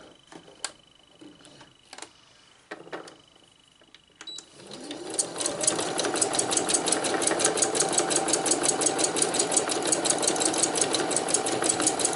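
A sewing machine stitching wire into a 3D textile piece starts after a few light handling clicks and taps, then runs as a fast steady mechanical chatter, close and fairly loud to the end.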